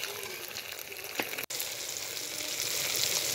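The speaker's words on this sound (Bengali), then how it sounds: "টমেটোটাকে দিয়ে আমি মশলাটাকে ভালো করে কষিয়ে নেব।" Spice paste frying with tomato and salt in a pan, a continuous hissing sizzle with a brief stir partway through, then a steadier, slightly louder sizzle.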